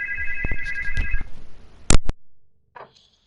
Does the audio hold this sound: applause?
no